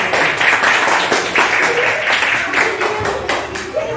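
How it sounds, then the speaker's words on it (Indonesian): Classroom applause for a school student group, a lively patter of many hands with distinct sharper claps standing out, close and fairly loud, with faint voices mixed in toward the end. "kita berikan tepuk tangan untuk kelompok"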